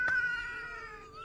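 A kitten gives a single short, high meow that trails off quickly, close and fairly clear over a soft background hum.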